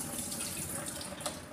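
Homemade butter is washed under running water from a tap, giving a faint, steady stream of splashing for a moment.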